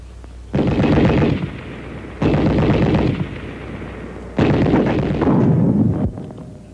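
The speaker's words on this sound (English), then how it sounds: "It doesn't have to be a tank for the anti-tank grenade to go to work." Anti-tank rifle grenades blasting a sandbagged machine gun position in WWII-era footage, three loud explosive bursts, each with a sharp onset and a rumbling decay, separated by short pauses.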